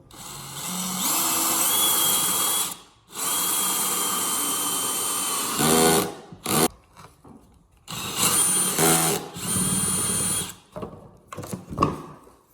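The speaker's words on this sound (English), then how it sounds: "just drill" A power drill whines in long bursts, stopping and restarting several times, with the pitch shifting as the bit bites into material.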